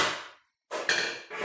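A steel chisel gets a light tap as it is seated into a slot of an Aermotor-type windmill wheel being assembled: a short broadband strike after a brief gap, then a second fainter hit, close and fairly quiet.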